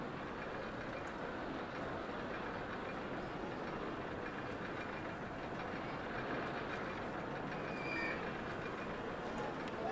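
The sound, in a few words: miniature railroad train running in a video game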